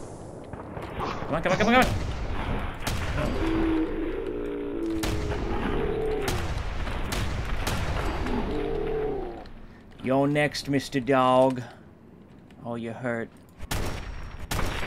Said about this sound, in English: God, there's so many explosions!